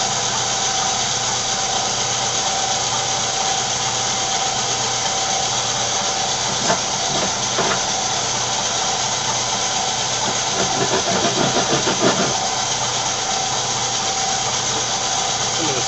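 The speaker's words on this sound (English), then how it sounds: "bandsaw." A bandsaw cuts freehand through a glued-up wood blank for a tool handle, producing a steady, close mechanical whir and hiss with brief rougher bursts as the blade bites into the wood.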